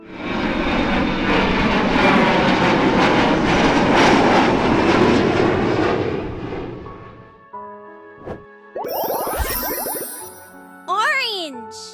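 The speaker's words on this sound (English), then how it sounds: "Airplane." A cartoon airplane's engine roars loudly and steadily for several seconds before cutting out, followed by playful jingles, chimes and a voice.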